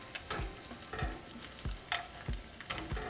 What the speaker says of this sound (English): we're going to fry our chile pods